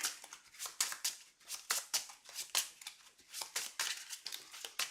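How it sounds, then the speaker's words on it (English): A deck of playing cards being shuffled for a tabletop card game, giving quick rhythmic riffling bursts repeated over and over, close and quiet, with no talking. "and then I shuffle my deck"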